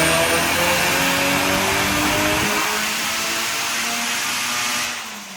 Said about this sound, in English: So we have Danny's S14 on the dyno